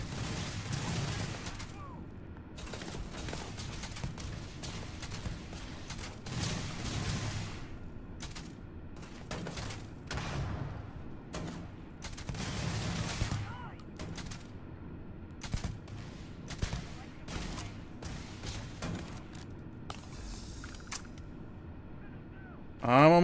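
Gunfire in the video game Starfield comes as repeated short bursts and single shots, fairly faint and spread irregularly across the stretch, with quieter game ambience between them.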